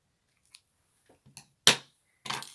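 Scissors snip through crochet yarn at the end of a baby bootie cuff, a few faint clicks followed by two louder, crisp cuts close by.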